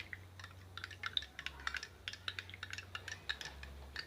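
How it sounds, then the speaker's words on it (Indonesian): A spoon stirs a warm drink of corn, boba and sugar syrup, producing faint, quick clinks and taps against the cup in an irregular rhythm over a low background hum. "Kita aduk."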